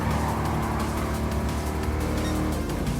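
A white Firebird Trans Am drifts in Gran Turismo Sport, its engine roaring loud and steady under continuous tire squeal and skidding for a few seconds.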